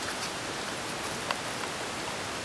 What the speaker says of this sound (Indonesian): Kita coba terobos hujan teman-teman ya.